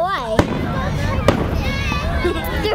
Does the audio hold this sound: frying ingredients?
no